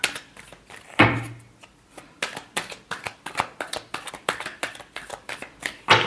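A deck of tarot cards being shuffled by hand, a soft run of rapid papery riffles and flicks with a few sharper slaps, close and fairly quiet, with no talking.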